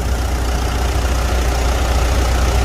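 A Mitsubishi Montero Sport engine running steadily at idle, a loud, even low rumble with a constant mechanical hum and no talking.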